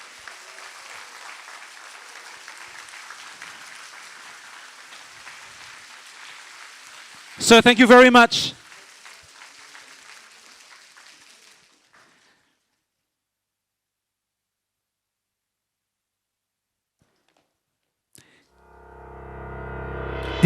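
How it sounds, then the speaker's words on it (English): An audience claps for the guest of honor, Deputy Prime Minister Heng Swee Keat, at a formal event. The steady crowd applause carries a short loud spoken thanks midway, then fades into silence before another voice begins. "give the biggest round of applause to our guest of honor"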